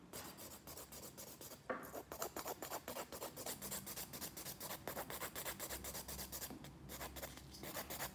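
A buffer works over the surface of a gel nail during French-manicure sculpting, making a fast, continuous rubbing scratch of rapid back-and-forth strokes, close and fairly quiet, with no talking.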